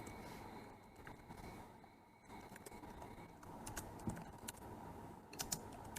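Python code goes in on a computer keyboard as a soft, steady patter of keystrokes with occasional louder clicks, heard close up at a faint level, with no talking.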